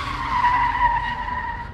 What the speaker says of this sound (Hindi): पर यह क्या, थोड़े ही आगे बढ़ते ही बट्टू ने अपनी गाड़ी को रोक दिया